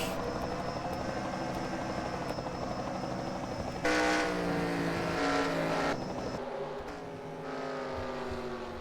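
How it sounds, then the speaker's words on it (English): A helicopter passes over a Kansas truck race track, its broad rotor drone mixed with the roar of racing trucks circling, the engine tones rising and falling as vehicles sweep past. "Helicopter."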